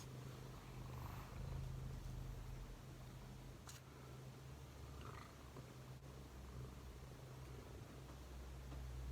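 A pet cat purring close by, a soft, steady rumbling purr that goes on without a break, with faint background hiss and no voices.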